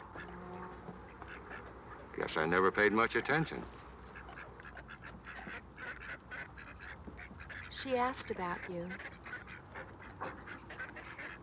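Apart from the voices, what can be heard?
ducks quacking and geese honking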